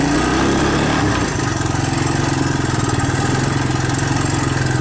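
Honda ATC200ES three-wheeler engine idling cold just after starting, choke on, loud and close with a steady rapid putter that settles into a pulsing rhythm after a brief initial rev.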